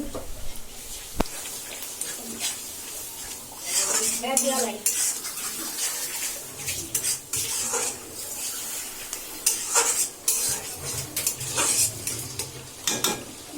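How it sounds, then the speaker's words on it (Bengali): Ginger-garlic paste is stirred into a pot of chicken biryani base with yogurt, heard as intermittent scraping and metal clinks over a faint sizzle, with occasional brief background voices. "আমি আদা রসুনের পেস্টটা দিয়ে দিব"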